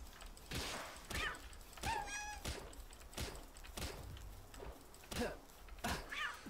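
Cattiva, a cat-like Pal in Palworld, gives several short rising meows amid repeated soft thumps and impacts from game action, no speech.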